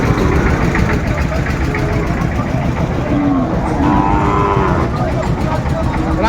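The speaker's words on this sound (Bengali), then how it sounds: "শাহিওয়ালের ষাঁড় বাচ্চা আমরা দেখছিলাম এখানে" A Sahiwal bull calf moos at a busy Dhaka cattle market, the lowing caught amid constant crowd chatter and an idling engine rumble close by.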